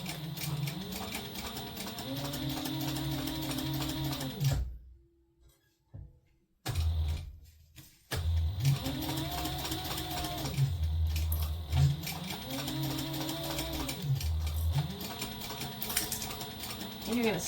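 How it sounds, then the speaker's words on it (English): Sewing machine stitching and back-stitching a zipper pouch, a loud mechanical rattle that rises and falls in pitch as it speeds up and slows, with a short silent pause midway before stitching resumes. "You're going to sew, back stitch"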